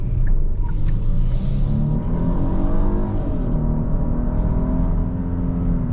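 Turbocharged 2024 Genesis GV80 SUV accelerating in normal mode, a steady low engine rumble with rising and falling whirring tones heard from inside the cabin, continuous throughout with no talk.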